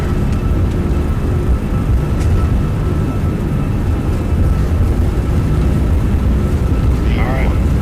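Toliss A346 airliner in X-Plane 11 on its takeoff roll, a steady, loud engine roar and rumble filling the whole stretch, with voices speaking over it.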